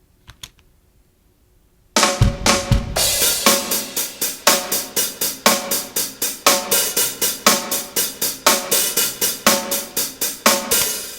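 A programmed drum kit enters after a near-silent moment, kick drum on the first beats, playing a steady beat of sharp, punchy hits with cymbal wash, close and loud.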